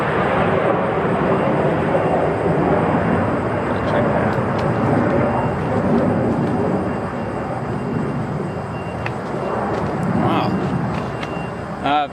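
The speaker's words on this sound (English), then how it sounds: "that plane flying overhead was one of the snowbirds. It's a Canadian aerobatic team." A Snowbirds plane of the Canadian aerobatic team flies overhead outdoors, a steady loud broadband engine roar that lingers through the whole stretch and eases slightly toward the end.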